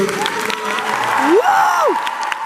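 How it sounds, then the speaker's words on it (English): A huge crowd applauds and cheers for Tom Ellis in a massive hall at Heroes Comic Con Belgium 2023, with sustained clapping and a loud rising whoop from one voice partway through. "maybe a round of applause for Ellis to show"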